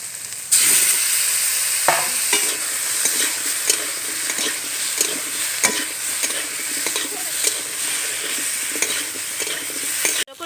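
Crab curry sautéing in a pan after flour is added, a steady bright sizzle with repeated scraping stir strokes of the spatula, close and fairly loud throughout, no voices.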